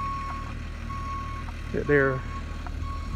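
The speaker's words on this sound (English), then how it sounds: "this is their yard truck" Cotton gin yard truck at a bale storage yard, its reversing alarm beeping steadily in a repeating pattern over a low engine idle, with a voice speaking briefly partway through.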